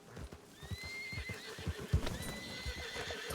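A horse in a video game lets out a drawn-out whinny over a steady clip-clop of hooves, close and moderately loud, with no talking.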